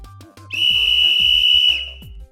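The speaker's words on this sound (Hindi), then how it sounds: "बराबर ये सीटी की ही आवाज है।" A single long, shrill whistle blast of the kind a traffic policeman blows, loud and close, held for over a second after a short rhythmic backing beat, then fading out.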